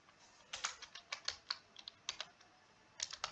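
Fingers type a ledger name on a computer keyboard, producing quick clusters of light, crisp key clicks with a short pause in the middle before a final burst.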